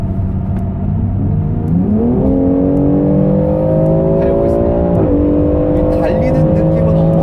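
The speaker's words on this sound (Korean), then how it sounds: "자, 지금은 이제 좀 달려볼 수 있을 것 같습니다." A BMW X3 M pulls hard with a loud, continuous engine roar whose pitch climbs steadily through the gears, with a short dip at a shift. The cabin sound is close and dense, with a faint voice underneath.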